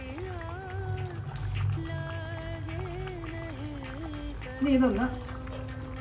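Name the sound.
pouring liquid over coriander into curry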